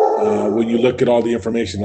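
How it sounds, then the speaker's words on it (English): A dog barks and yips in the background of a home while a person speaks steadily over it, the short barks partly masked by the voice. "that's my dog barking in the background"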